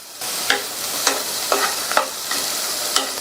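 Carrot and chopped beans sautéed in a hot pan for vegetable soup: a dense sizzle broken by regular spatula scrapes about twice a second, close and loud.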